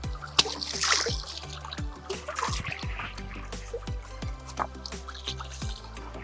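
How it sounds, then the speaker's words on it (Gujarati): Water drips and splashes outdoors while someone washes hands, feet and face in a stream on the Girnar parikrama route, with irregular close splatters and trickling over a steady background. "મસ્ત પાણી છે. હાથ પગ મોઢું ધોઈ લે થોડા."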